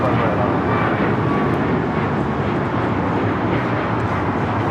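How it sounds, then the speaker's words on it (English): A United Airlines Boeing 737 MAX 8 taking off at LAX, a steady broad jet roar that stays loud and even throughout, with some faint voice in the background. "1621 taking off to Orlando, Florida on the MAX 8"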